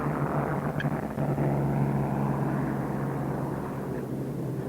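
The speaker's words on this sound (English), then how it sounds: "Dauntless dive bombers." Droning piston engines of Dauntless dive bomber aircraft, a steady, loud, rumbling roar that holds throughout with slight swells and no talk.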